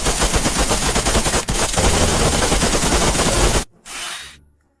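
Rapid automatic gunfire from a shootout, a loud, dense, continuous burst of machine-gun fire lasting several seconds, then an abrupt cut to a short fading blast or rumble.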